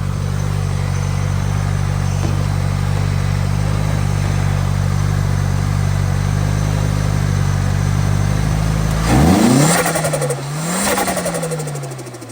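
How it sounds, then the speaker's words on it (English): A car with a swapped Nissan SR20DET turbo engine idles with a steady low drone, then is blipped in a quick sharp rev that climbs and falls, followed by a second smaller rise, close and loud. "Let me just give you guys a quick rev."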